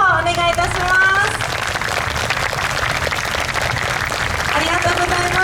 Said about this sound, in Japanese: もう一度設計の皆様に大きな拍手をお願いいたします。